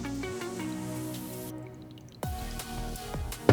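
Water trickles and drips into the water chamber of a Wacaco Pixapresso portable espresso maker while it is filled to the line, a close, steady pour with a brief quieter gap partway through.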